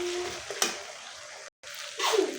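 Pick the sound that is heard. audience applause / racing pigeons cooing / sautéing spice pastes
sautéing spice pastes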